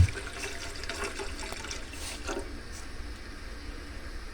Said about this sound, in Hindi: अब हम इसमें दूध शामिल करेंगे।